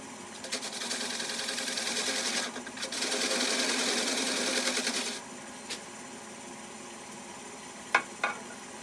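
A wood lathe spins a mimosa bowl blank while a bowl gouge cuts, giving a loud steady whirring hiss in two long runs. It then quiets to a low hum broken by a few sharp clicks.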